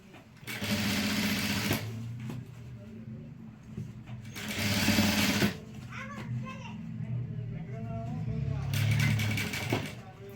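Sewing machine running in short bursts, stitching a zip into a dress, with pauses between runs; talk and children's voices carry on underneath the whirring.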